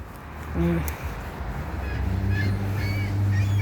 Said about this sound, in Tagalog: May ingay yung mga ibon.